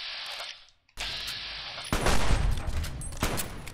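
Repeated loud gunfire in Fallout New Vegas, a burst of shots after a brief pause, followed by a denser rattling volley of blasts layered over ongoing game noise.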